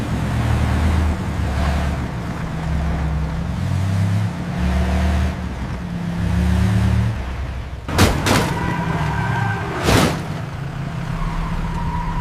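A car rolls forward with its engine droning and swelling as it revs, a steady low motor note throughout, broken near the end by two sharp loud cracks.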